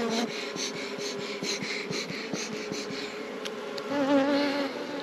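Honey bees buzzing at an open hive, a dense, continuous drone close by with a few louder passes of individual bees near the end.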